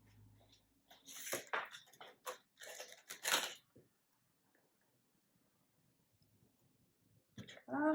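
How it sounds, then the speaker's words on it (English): Ribbon scissors snip through ribbon while a Christmas exploding table favour box is made: several sharp, close crisp cuts and clicks in quick bursts, then near silence before a soft voice starts. "Just cut that off with my ribbon scissors."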